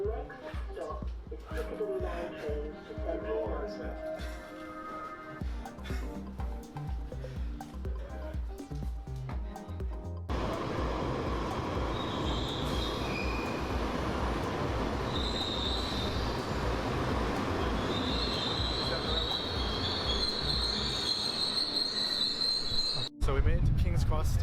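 A London Underground Piccadilly Line train runs with a loud rumbling roar, wheels screeching and squealing on the rails as it speeds along, heard from inside amid background voices.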